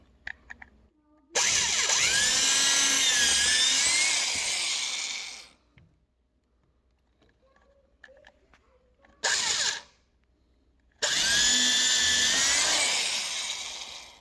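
A power drill bores through a tongue-and-groove floorboard into the beam below during flooring installation, with two long loud whining runs and a short burst between them, separated by quiet pauses.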